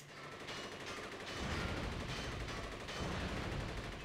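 Rapid bursts of gunfire in the video game Rise to Honor rattle continuously under a steady wash of noise, loud and dense with no pauses.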